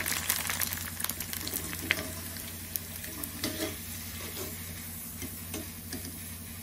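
Sliced onions fry in hot oil with a steady close sizzle and crackle, with light utensil clicks and a low background hum.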